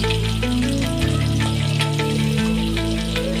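Onion frying in hot oil for Bomedala pulusu, a steady, close, dense sizzle with no talking.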